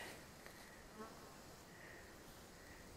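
A steady, dense buzz of many bees at a hive fills the air continuously, with no talking.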